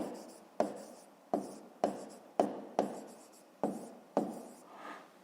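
A pen scratches across paper while working a fifth-grade math exercise, a series of about eight short, regular strokes, each starting sharply and fading.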